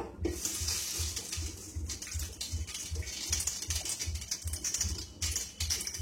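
Water pours steadily into a cooking pot over low heat after oil and chilies, a running, splashing stream lasting the whole stretch with no talk.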